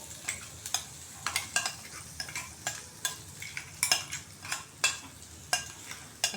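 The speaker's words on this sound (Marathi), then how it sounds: "छानपैकी तेलात आपण परतून घेऊया." A ground paste of spinach, garlic and chili is sautéed in oil, with repeated short scrapes of stirring over a faint, soft sizzle in a quiet kitchen.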